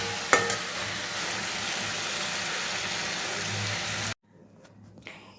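Papaya frying in a pan and being stirred gives a steady, fairly loud sizzle with a scrape near the start, cutting off abruptly to near silence with faint clatter at the end.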